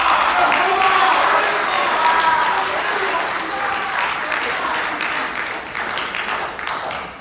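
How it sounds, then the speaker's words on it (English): An audience at a Pasifika Fusion festival main stage bursts into loud applause after a speech, the clapping strong at first and slowly thinning out. "Another round of applause, ladies and gentlemen, for Mativa Fonua from Palmerston North Boys"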